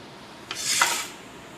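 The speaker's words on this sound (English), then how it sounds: "now I am going to open the bowl" A lid is pried off a bowl of sprouted green gram, giving a brief scraping rub followed by a soft rasping slide, quiet and close with no talking.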